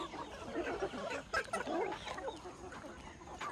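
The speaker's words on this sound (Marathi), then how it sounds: "कोंबड्या सोडल्यात बाहेर मुक्त संचारमध्ये." Free-range native chickens roaming outdoors on a half-acre farm in the early morning cluck in a steady, moderately close chorus, with no talk over them.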